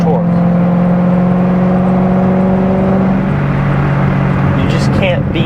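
Corvette C6 Z06's 7-liter LS7 V8 droning steadily from inside the cabin on a morning back-road drive, its low note shifting slightly partway through, loud and continuous beneath someone talking.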